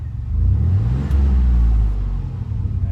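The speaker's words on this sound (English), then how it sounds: "I rev it up a bit and it's going down." A 1995 Chevy K1500 pickup truck engine revs up close, its deep rumble rising into a strong roar and then easing back down to a steady idle.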